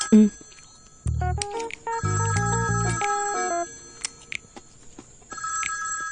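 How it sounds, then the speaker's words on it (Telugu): A telephone rings with an electronic ringtone melody, a run of stepped tones in repeated bursts that sound loud and close, broken by short pauses, with no one talking over it. "ఫోన్ మోగుతుంది, తీసుకురాపో."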